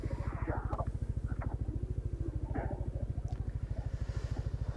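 A Honda Click motorcycle engine idles in a steady, rapid, even putter close by, with faint background voices and clatter.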